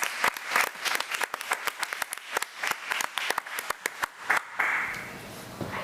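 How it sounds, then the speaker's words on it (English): Applause from a small audience at a county committee of the whole meeting honoring a high school staff member, a sparse round of distinct hand claps that thins out and fades near the end. "Let's give Ms. Mushrush another round of applause."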